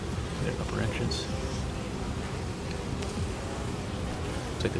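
A low, steady buzz of many honeybees humming close by at a hive entrance, with scattered rustling and faint background voices.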